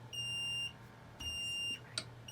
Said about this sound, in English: Once your alarm goes off, turn